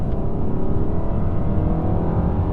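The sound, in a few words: VW Tiguan 2-liter turbo engine accelerating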